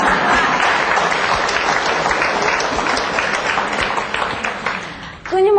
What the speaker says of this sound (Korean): 또 박수를 이때쯤 쳐야 돼요